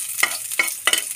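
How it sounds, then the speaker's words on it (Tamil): Chopped ginger and garlic sautéing in hot oil with popped mustard seeds for a pasta dish, giving a bright sizzle broken by three quick spoon scrapes against the pan, close up and without speech. "நம்ம கட் பண்ணி வச்சுருக்க இஞ்சி பூண்டு இது ரெண்டுத்தையும் நம்ம இதில் போட்டுக்கலாம். லைட்டாக வதக்கி விட்டுக்கலாம்"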